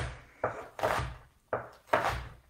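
A knife slicing through an onion on a cutting board, four distinct close chops in two pairs, each a sharp thunk followed by a short scraping tail, with no voices.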